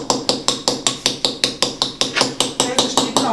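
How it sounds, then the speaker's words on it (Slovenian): Hammer driving a chisel into stone, a rapid steady series of about fifteen sharp metallic knocks with gritty chipping, close and loud, no talking. "Sekač je rahlo nagnjen proti lističu in zdaj zaklešamo."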